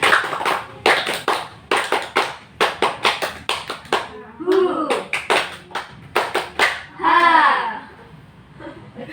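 A group claps hands in a counting clap game at a peer group counseling session, with many rapid claps in quick patterned bursts. Short spoken counts and children's voices come between the claps.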